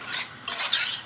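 Short scraping strokes stir a flour roux in a pan for a pasta bake, three quick close rasps with a light sizzle underneath.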